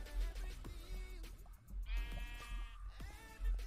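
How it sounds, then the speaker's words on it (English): Sheep bleating in the Minecraft Nether, several drawn-out, wavering bleats in a row, loud and close over a steady low game background hum. "How am I hearing a sheep in the nether?"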